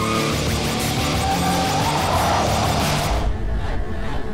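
A supercar slides sideways, its tires squealing loudly and continuously over a roaring engine, then the squeal cuts off abruptly near the end.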